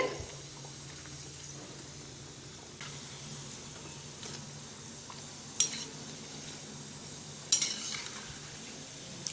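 Chicken curry vadai fry quietly in hot oil over a lowered flame with a soft, steady sizzle, while a few sharper scrapes and clinks mark the fritters being turned now and then.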